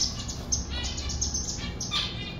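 Diamond doves kept in a breeding aviary call with faint high chirps and tweets scattered over a steady hiss of background noise.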